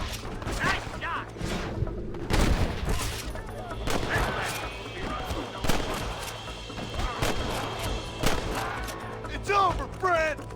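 Gunfire in the video game Red Dead Redemption: a series of sharp, loud shots in irregular bursts, some close and booming, mixed with voices talking between the shots.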